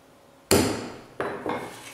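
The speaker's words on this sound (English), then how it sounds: "I can punch that because we're going to be drilling a hole there." Three sharp metallic taps of a hammer on a center punch, one strike then two quicker ones, close and ringing briefly.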